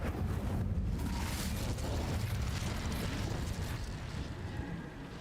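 A fire spell cast in Hogwarts Legacy gives a loud, continuous roaring burst of flame, a dense rumbling rush that stays full for about five seconds and tails off slightly at the end.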